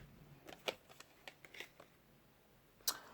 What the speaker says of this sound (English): I'm going to shuffle this deck for you